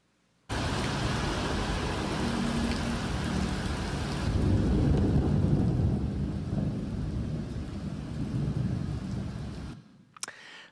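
A thunderstorm in Bangkok's rainy season: steady, loud rain with rumbling thunder runs continuously for about nine seconds before cutting off abruptly.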